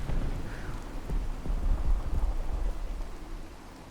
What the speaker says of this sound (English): And this rain is making my frames a little choppy.